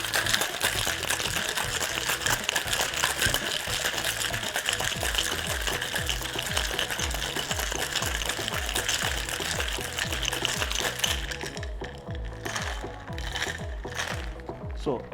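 A martini shaken hard with ice in a cocktail shaker, a loud, steady, rapid rattle and slosh that keeps up for about eleven seconds before thinning out, with no talk over it.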